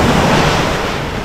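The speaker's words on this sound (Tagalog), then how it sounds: "malakas daw ang alon" Loud, steady rush of sea waves breaking against a small fishing boat out at sea, with wind buffeting the microphone throughout and no voices.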